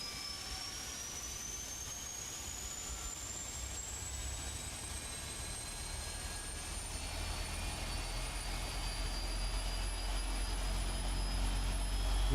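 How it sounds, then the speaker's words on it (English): Engine number 1 of a PMDG 777F freighter spools up in Microsoft Flight Simulator 2020, a rising turbine whine climbing steadily over a growing low rumble and getting louder throughout, with no voices. "Firing up engine number 1."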